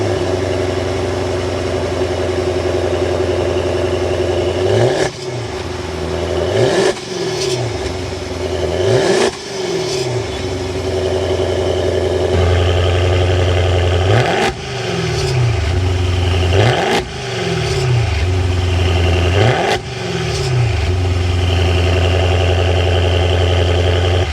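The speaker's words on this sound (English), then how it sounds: "start it up so you can hear that Ferrari engine" A 2023 Maserati Ghibli Trofeo's 3.8-liter twin-turbo V8 idles with a deep burble, then is revved repeatedly, six sharp rising-and-falling blips in fairly regular succession, loud and close.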